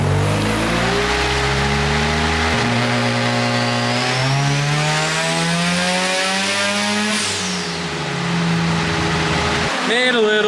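A boosted Datsun engine revs hard on a test drive, its pitch climbing steadily through gears with one shift, then easing off near the end, loud and close throughout.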